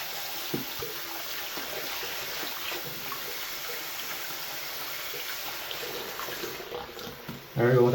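Cold tap water runs steadily and softly from a faucet in Norway, a continuous hiss and splash lasting several seconds before a louder burst at the end.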